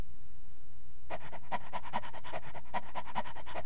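Rhythmic dog panting from King's Quest VII, a quick run of breathy puffs starting after a second of quiet, close and steady, with no voices over it.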